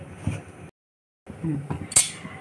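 A kadai wok is set on a stove with a few metallic clinks and knocks, separated by a brief silence, close and fairly loud.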